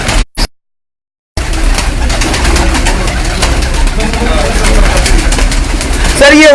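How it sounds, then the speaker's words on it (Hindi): Paired breeding pigeons in a loft in Rawalpindi coo steadily, fairly loud and close, under a voice after a brief silent gap at the start. "ये आप जो इस वक्त देख रहे हैं ये पेयर्स वाले कबूतर हैं"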